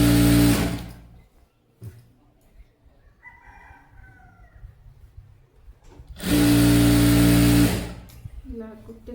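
A sewing machine stitching a seam on a saree dress runs in two loud, close bursts, one at the start and one longer run later, with quiet speech and faint sounds in between.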